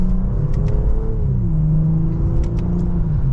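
BMW M340i engine in sport mode, heard from the cabin as a steady low rumble with a smooth rising drone, continuous and fairly loud with no talk over it.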